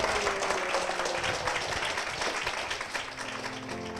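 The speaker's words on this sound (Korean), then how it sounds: "축복의 박수 부탁드리겠습니다" Sustained applause from a church congregation, steady clapping filling the space for several seconds, with faint voices underneath.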